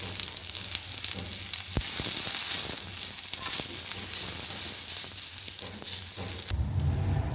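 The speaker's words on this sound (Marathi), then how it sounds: "जो कांदा मी उभा कट करून घेतला होता तो ह्याच्यात टाकून द्यायचा आपल्याला तो पण छान परतायचा आहे" Vertically sliced onions sautéing in a pan for a chicken dish, a steady close sizzle with occasional stirring scrapes and a louder burst near the end.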